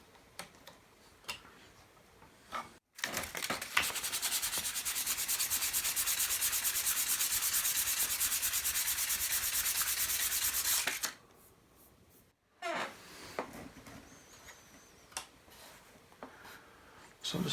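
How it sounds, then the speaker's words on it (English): Wooden planks for a model Yamato battleship stern being sanded by hand, a steady close scraping rub lasting about eight seconds between quieter bursts of handling and tapping. "So I just sanded that section,"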